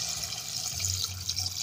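Water pours from a tap into a pot of mung beans in a home kitchen, a soft continuous splashing stream with slight gurgling, fairly close and alone.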